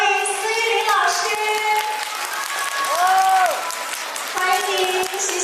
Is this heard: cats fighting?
no